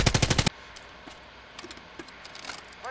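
Gunfire in Call of Duty: Modern Warfare Warzone, a Special Ops mission, opens with a loud rapid burst of about eight automatic shots, followed by faint scattered distant shots over a low background hum.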